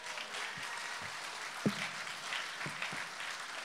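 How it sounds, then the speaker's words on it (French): An audience at the comedy show Le Gong Show applauds co-host Charles Deschamps, a steady wash of clapping that holds at moderate level through the whole stretch, with a few sharper hand strikes standing out. "On peut l'applaudir!"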